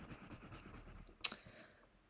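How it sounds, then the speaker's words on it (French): Colored pencils scratch steadily across a coloring book page in soft, rapid strokes, close and quiet, with one brief sharper tap partway through. "Je vais peut-être colorier un peu aussi"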